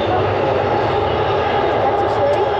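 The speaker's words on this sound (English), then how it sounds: "That's the tunnel, the train." A loud, steady rumble and roar of a train moving through a tunnel, continuous throughout with no clear voices.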